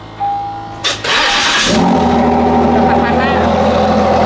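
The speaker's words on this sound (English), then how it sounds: "let's take a listen then to the start-up of this car" A Ford GT with a V6 starts up close by: a whirring starter, a sharp catch, then a loud bark settling into a steady, rumbling idle.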